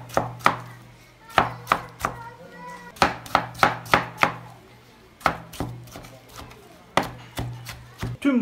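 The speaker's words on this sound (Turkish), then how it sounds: "Şimdi bunları doğruyoruz." Knife chopping peeled tomatoes on a board, a quick irregular run of sharp close thuds repeated over several seconds, with no talk.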